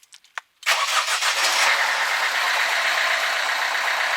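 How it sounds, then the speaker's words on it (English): A Ford Fiesta, Fusion or Figo engine being started: a few short cranking bursts, then the engine catches and settles into a steady, loud idle. "Start the engine"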